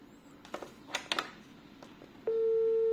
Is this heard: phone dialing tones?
yes